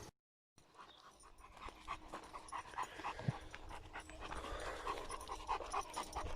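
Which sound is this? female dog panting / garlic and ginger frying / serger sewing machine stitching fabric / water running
female dog panting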